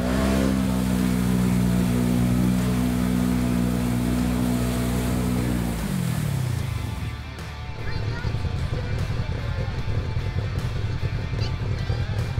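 ATV stuck in mud at an off-road riding area: a loud engine held at high revs for several seconds, then dropping off into a rougher, lower churning idle, with voices faintly present.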